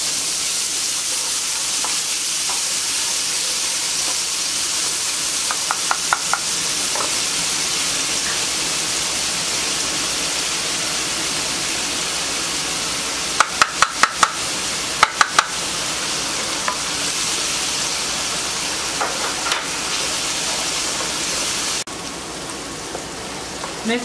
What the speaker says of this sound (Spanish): Ya está caliente, vamos a soltar primero la cebolla.